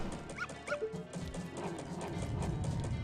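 Dogs in The Legend of Zelda: Majora's Mask give short yelping barks and a whimpering howl, a few quick cries close by, followed by a steady patter of footsteps and game ambience.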